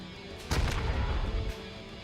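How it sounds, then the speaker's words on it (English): A Halo 2 footstep layered with a Halo Infinite Covenant explosion from a video game: one heavy, booming impact with a rumbling tail that lasts about a second, then fades back to a quiet background hum. "And this is it mixed with the Halo Infinite Covey Explosion."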